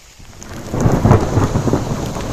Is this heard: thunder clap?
yes